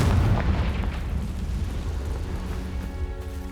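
A fire-blast spell explodes in the Hogwarts Legacy video game, a loud, deep rumbling boom that rolls on and slowly decays with crackling debris.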